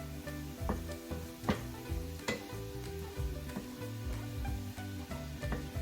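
Ground beef and bratwurst sausages sizzle in a skillet, a soft steady frying hiss with scattered clinks and scrapes of a utensil stirring, fairly quiet and without talk.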